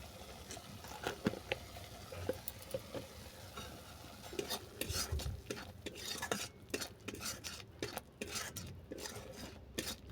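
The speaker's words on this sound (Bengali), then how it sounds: "এটাকে আমি ভালো করে কষিয়ে নেব, কষিয়ে টাইট করে নেব।" Pabda fish bone mash being stirred and fried in a pan, with steady scraping and clinking of a utensil against metal over a soft sizzle, close and fairly quiet throughout.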